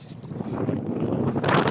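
Steady wind buffets the microphone at a beach, a broad rushing roar that swells louder near the end, with no voices.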